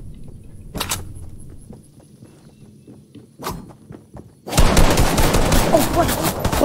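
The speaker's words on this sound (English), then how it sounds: "Heard gunfire." In the video game Fortnite, scattered sharp shots pop in a quiet scene, then a loud continuous burst of rapid gunfire erupts and keeps going.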